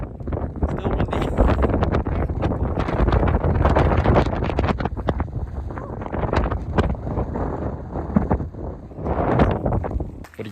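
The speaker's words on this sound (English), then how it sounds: "Still windy." Heavy wind buffeting a microphone outdoors on a cross-Canada camper car road trip, loud continuous rumbling gusts that surge and ease throughout with no speech.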